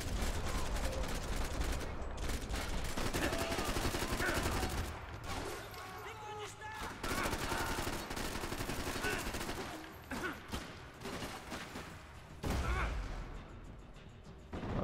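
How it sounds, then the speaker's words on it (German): Rapid bursts of dual Uzi fire in the Max Payne 3 video game, dense and loud through most of the stretch with brief lulls, amid crashes and impacts, with a voice talking over parts of it. "deswegen nehme ich jetzt mal die Double Uzis."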